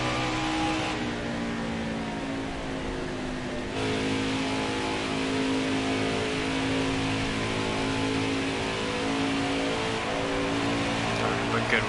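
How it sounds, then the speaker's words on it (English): Race truck engine at Pocono under full throttle, a steady loud drone that climbs in pitch as it accelerates, with a brief dip and shift partway through, heard from inside the cab with faint talk over it. "Got on the throttle super early."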